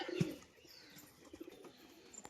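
A Giribaz pigeon gives a single short low coo near the start, then faint rustles and small knocks carry on quietly in the background, with no one talking.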